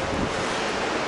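Strong cold wind rushes across a Pacific Crest Trail hiking path, a loud, dense, continuous roar buffeting close to the microphone with no voices.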